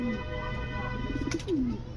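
Lakka fantail pigeons give soft, low cooing calls, a couple of short rolling coos fairly close over a quiet background.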